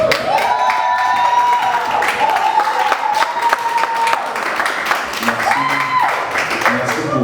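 An audience applauds and cheers at a Christian gospel concert, a steady crowd clapping that carries throughout under a sustained musical tone from the stage.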